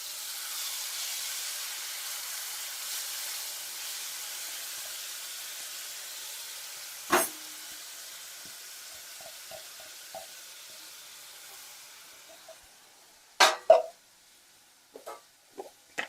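Crushed paste hits hot tempering oil with mustard seeds, cumin, asafoetida and curry leaves for a dried-pea curry, giving a loud, close sizzle that slowly fades, followed by a few sharp utensil clinks near the end.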